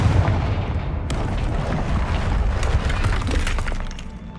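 A Confringo blasting spell explodes in Hogwarts Legacy with a loud, booming, shattering burst, followed by crackling debris and further sharp impacts before fading out.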